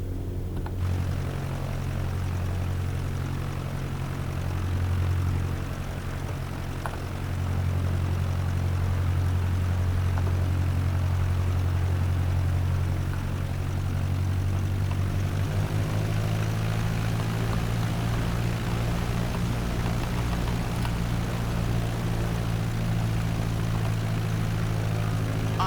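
Steady propeller aircraft engine drone from a flight simulator game while taxiing on an airport, a continuous low hum that shifts pitch slightly partway through, with no talking.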